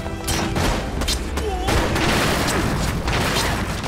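Units in the real-time strategy game Battle Realms loosing a ragged volley: dense overlapping shots and booms crowd the whole stretch, loud and continuous, with short unit voice responses mixed in near the start.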